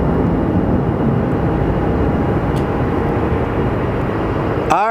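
An airliner in Desert Gold retro livery at Sky Harbor Airport, heard as a loud, steady jet engine roar close by, ending in a sharp squeal.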